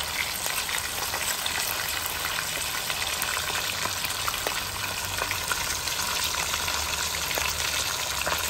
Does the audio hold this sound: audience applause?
no